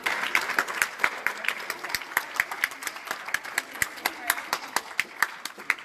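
A youth gathering audience claps their hands in a fairly sparse, uneven scatter of distinct claps, with individual sharp hits standing out over quieter background clapping and faint voices.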